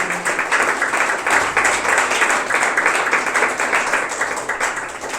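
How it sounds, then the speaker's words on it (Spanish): A church congregation applauds during a sermon, with steady clapping that has a slightly rhythmic, pulsing feel and holds at a fairly even level throughout. "dale un aplauso al Señor"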